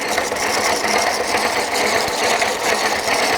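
A Stanley 77 dowel maker cuts dowel from square wood stock, giving a dense, continuous mechanical whirring and rasping that stays loud and even for the whole stretch.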